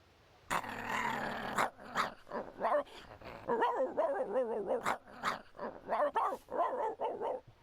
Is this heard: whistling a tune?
no